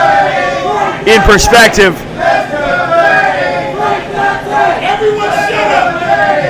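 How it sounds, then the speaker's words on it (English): A wrestling crowd cheers and chants at a heavyweight championship match, a rowdy roar of voices and shouts under a commentator talking loudly over it. "Both men getting great support from our crowd"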